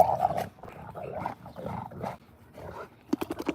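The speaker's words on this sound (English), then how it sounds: "And a lot of that noise you hear is just the Rottweiler." A Rottweiler growls in bursts during rough play, several close, throaty rumbles with short gaps, ending in a few sharper snaps or barks.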